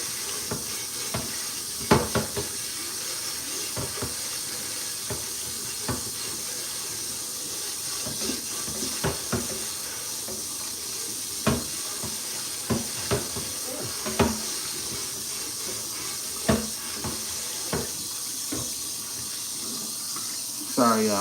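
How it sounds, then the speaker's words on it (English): Tap water runs steadily over a greasy pan being washed, a constant close hiss of flowing water broken by scattered clanks and knocks of the pan against the sink, with a voice talking at times. "I had to clean this pan because now I gotta make the eggs."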